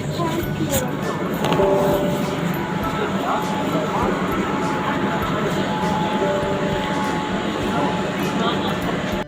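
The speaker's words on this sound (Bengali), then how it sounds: "চলুন ছেড়ে দিয়েছে আমাদের মেট্রো" A metro train departs and rumbles steadily toward the tunnel under the Ganges, with broadband rolling noise and faint tonal whines, sustained and close, with voices murmuring underneath.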